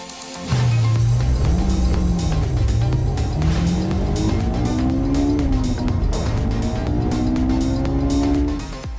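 A 2025 Volkswagen GTI hot hatch drives hard on a race track, its engine note rising and falling steadily through gear changes with some tire noise, loud and close for nearly the whole stretch.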